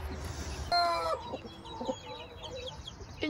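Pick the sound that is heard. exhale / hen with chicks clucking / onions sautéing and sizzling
hen with chicks clucking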